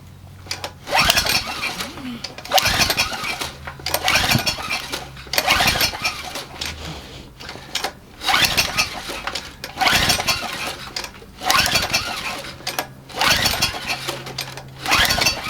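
A Generac 3000 watt generator engine cranks over repeatedly in rhythmic pull-start bursts about every second and a half, each a short chugging churn with a weak, low-compression pop rather than a solid fire, never catching.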